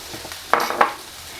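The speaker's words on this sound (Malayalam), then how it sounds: "ചോറും കൂടെ ചേർത്തിട്ട് നന്നായിട്ട് ഇളക്കിയെടുക്കാം" Cooked rice stirred into egg masala in a pan, with two quick, close scrapes of the spoon against the pan over a faint background sizzle.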